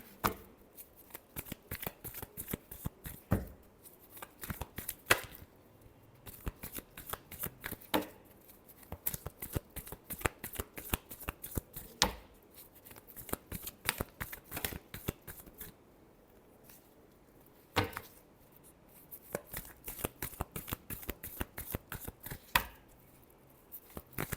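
Tarot cards are shuffled by hand, close and fairly quiet, with steady rapid riffling and flicking bursts and brief pauses between runs.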